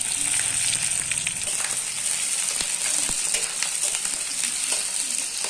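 Onions frying in a pan with spices such as chilli and bay leaf for a dhaba-style chicken curry, giving a loud, steady close sizzle with a few stirring scrapes throughout.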